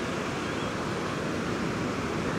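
Ocean waves at Venice Beach, California wash in a steady, broad roar of surf, continuous and moderately loud with some wind noise and no talk.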